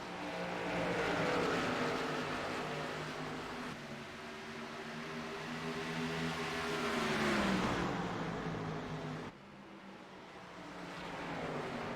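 Several stock race cars run bunched together around an oval track, their engines blending into a loud, continuous droning roar that swells and dips as the pack passes, with no one speaking.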